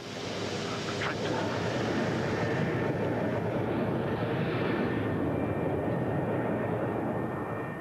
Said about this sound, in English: And the 111 climbs on autopilot.